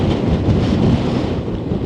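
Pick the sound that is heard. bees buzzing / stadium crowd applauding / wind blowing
wind blowing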